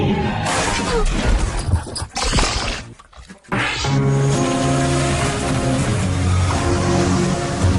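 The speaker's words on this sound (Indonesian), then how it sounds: "Ia tertimpa pintu kaca yang ditabrak si anjing tersebut." A glass door shatters as a dog crashes into it in a TV commercial, a loud sustained crash of breaking glass with a brief pause, then continuing clatter and music.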